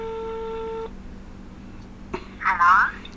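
Call tones from a Realme Watch 3 smartwatch placing a phone call, a steady multi-tone ringback that stops after about a second, followed by a click and a person's voice answering over the watch speaker.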